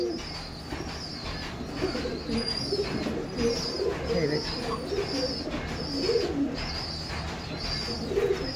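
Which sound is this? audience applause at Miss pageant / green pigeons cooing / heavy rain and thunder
green pigeons cooing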